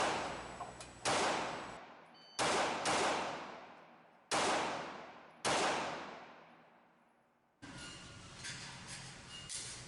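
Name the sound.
S&W Model 39-2 9mm pistol shots at 25 feet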